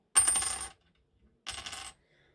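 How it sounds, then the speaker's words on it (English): A silver coin dropped twice, each landing giving a bright, ringing metallic ting that decays over about half a second, clear and close with silence between. "The silver one has a nice ting to it, and the other one doesn't have that metallic"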